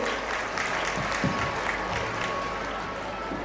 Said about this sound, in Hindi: एक बार जोरदार तालियां हमारे सभी अचीवर्स के लिए